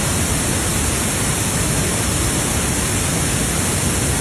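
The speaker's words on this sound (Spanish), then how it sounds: "Aquí estamos al centro de las cascadas" Las Golondrinas waterfalls in the Lacandon jungle of Chiapas pour with a dense, steady hiss, loud and close and unchanging throughout.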